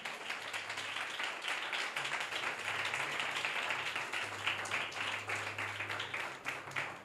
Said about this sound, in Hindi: यीशु के लिए जोरदार तालियां बजाएं जरा